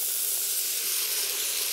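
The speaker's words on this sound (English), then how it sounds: "You hear that sizzle? It's amazing." Steady bright sizzling and hissing from lentils and diced plum tomatoes cooking in a hot pressure cooker, continuous and close, with no voices.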